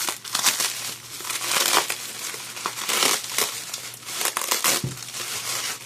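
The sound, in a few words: cutting open Canon camera packaging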